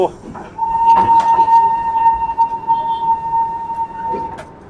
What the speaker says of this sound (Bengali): ইঞ্জিনের সামনে সেই আগেকার দিনের দড়ি টেনে টেনে হুইসেল বাজানো